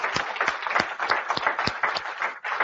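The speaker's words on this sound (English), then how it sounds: "Give them a round of applause" Audience applause in a workshop, a fairly small group clapping steadily with distinct individual claps, briefly dipping near the end before picking up again.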